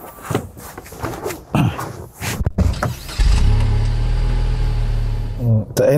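A Chevrolet Spark with the Easytronic automated manual gearbox idles steadily and close after starting up, a low constant drone heard alone once an earlier stretch of talking and handling noises stops.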